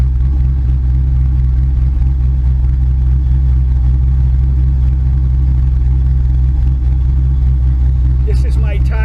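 A car engine, a GTM with a ducted fan setup, idles steadily with a loud, constant low rumble close by, and a brief faint chirp near the end.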